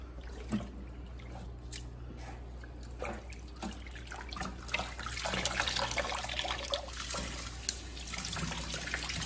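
Running tap water splashes into a sink while leafy greens are swished and scrubbed, a steady wet rush with occasional sloshing and drips, no talking.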